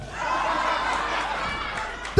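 A wrestling crowd at a six-man tag match cheers and chatters in a steady, moderately loud roar, with a sharp burst at the end, and speech partly mixed in.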